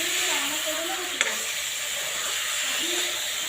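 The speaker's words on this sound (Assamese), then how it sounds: "এনেকৈ মিক্স কৰি ধুনীয়াকৈ লৰাই দিছোঁ কেৰাহীখন ধুনীয়াকৈ" Mutton frying in a wok while being stirred: a steady, close sizzle and hiss with soft scraping strokes and one brief metallic clink partway through.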